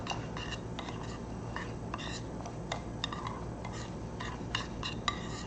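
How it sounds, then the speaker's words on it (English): A utensil clinks and scrapes against a bowl as flour and baking powder are stirred into batter for basa fish fry, a run of irregular light taps and scrapes close by. "We're going to mix everything together."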